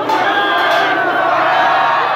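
A large crowd at a Korean pro-Park Geun-hye Taegukgi rally shouts slogans in unison, a dense, loud roar of many voices sustained through the whole moment.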